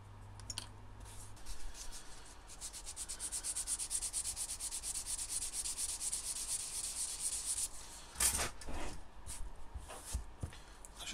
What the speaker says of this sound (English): I just want to sand this piece now